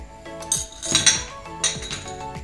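Eggs with chopped green chilli and salt being beaten in a bowl, making bright clinking taps of a utensil against the dish in an irregular run of strokes, close and fairly loud, with no talking.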